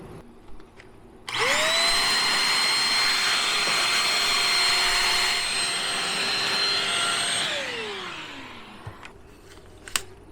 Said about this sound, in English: I think it's time for the vacuum cleaner.